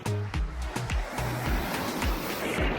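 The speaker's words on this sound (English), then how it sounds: "It might be the roughest waves that we ever see." Rough ocean waves break and splash at San Martin beach on Cozumel, a steady near wash of surf with repeated surging crashes and no talking.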